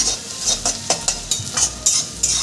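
Onions fry in a pan while being stirred, a close sizzle broken by regular scraping strokes of a spoon roughly every few tenths of a second, with no voices.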